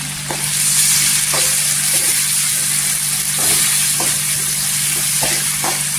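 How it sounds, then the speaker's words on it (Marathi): Chopped tomatoes sauté in hot oil with garlic, a loud steady close sizzle with occasional soft clacks of a spatula stirring the pan, and no voices. "इथे तेलावर परतून घ्यायचं"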